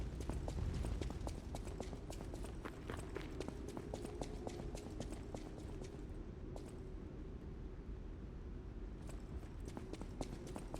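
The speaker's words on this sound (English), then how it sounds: "Why do I hear footsteps?" Footsteps in the video game Lies of P, a fast, steady run of hard clip-clopping steps over a continuous low rumble, fairly faint and alone for about ten seconds.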